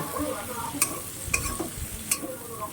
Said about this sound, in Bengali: এটাকে আমি এই চিংড়ি মাছের সাথে পুরোপুরি ভেজে নেব